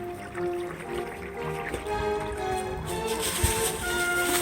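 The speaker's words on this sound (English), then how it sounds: "A good downpour though, and it sounds like a river." Small woodland stream running fast after a heavy downpour, a continuous rushing, trickling flow of water close by, steady and fairly loud.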